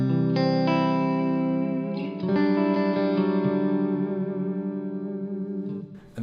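Clean electric guitar run through a room reverb with a Strymon OB-1 compressor on, from a Gigrig G2 pedalboard: ringing sustained chords and notes bloom in a spacious wash and linger between strikes.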